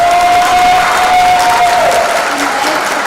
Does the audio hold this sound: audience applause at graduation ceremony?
yes